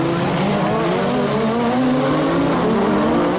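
Several Renault Clio rally cars in a 1600 cc division race at a 2009 European Rally Championship event, their engines snarling loudly and continuously as they jostle closely together, with faint tire squeal.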